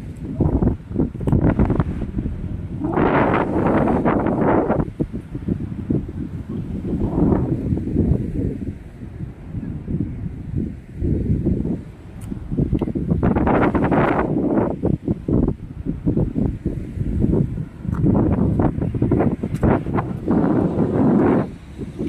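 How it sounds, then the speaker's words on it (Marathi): Steady wind at Madh Chowpatty beach buffets the microphone in heavy, continuous gusts that rise and fall, with a faint rustle and possible surf underneath and no voices. "हवा भरपूर राहतो चौपाटीला"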